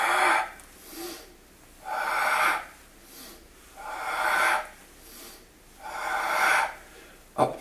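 Forceful exhalations during a core-strengthening circuit workout, four long breathy blows through the mouth spaced a couple of seconds apart, close and loud, with softer inhalations between and no talking.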